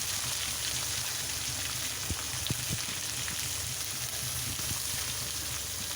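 Diced potatoes go into a pan with beans for chira poha, a soft steady frying sizzle with a few light clicks and taps of stirring, quiet and continuous with no talking.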